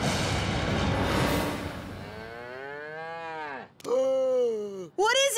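A cartoon moo toy lets out two long, drawn-out mooing calls like a cow, each sliding downward in pitch, with a short sharp burst and the start of a third moo after them. Noisy cartoon sound comes just before.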